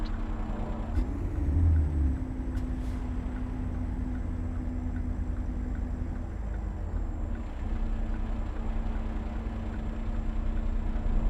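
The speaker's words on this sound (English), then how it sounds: "I do love the sound of the engine, the nuances of it, but it's too quiet for me" A Marmon 57p truck engine in American Truck Simulator, a quiet steady low rumble with a faint tonal hum and a brief air-brake-like hiss early on, with no talking.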